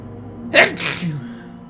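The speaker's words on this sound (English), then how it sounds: "I gotta sneeze, though." A single sharp sneeze bursts out close by, a quick intake followed by a loud explosive release that trails off into a breathy tail.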